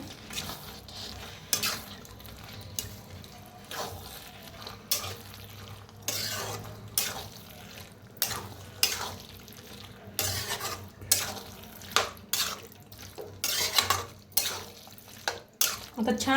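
A utensil scrapes and stirs through a rural-style mixed vegetable dish cooking in a pan on a wood-fired clay stove, producing repeated irregular scraping strokes over a low sizzle. No one speaks.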